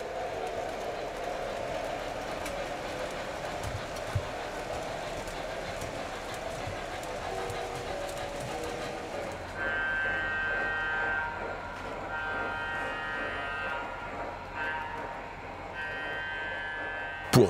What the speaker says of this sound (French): les trains peuvent emprunter différents parcours